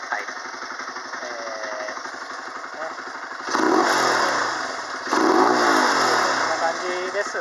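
A Honda motorcycle engine starts and revs in two loud bursts, rising over a steady idle, with a voice talking underneath at close range.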